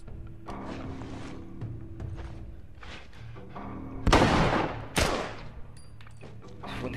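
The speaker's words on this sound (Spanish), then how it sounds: "Fue un disparo con el subfusil." Submachine gun fire in The Last of Us, sharp loud gunshot bursts rising out of tense game ambience, with two especially strong cracks close together near the end.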